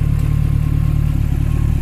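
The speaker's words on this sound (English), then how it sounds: "It's got the LS3 V8 in it, and it's idling right now, nice and quiet." A Porsche 996 fitted with an LS3 V8 idles steadily and loudly up close, a deep, even, low rumble with a fine regular pulse and no voices.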